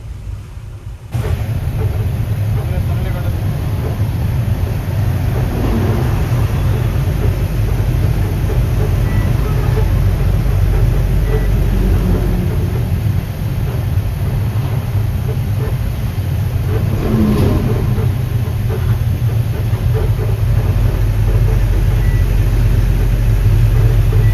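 A truck driving on a rough, bumpy road, heard from inside the cab as a loud, constant low engine and road rumble with occasional rattles, under faint voices.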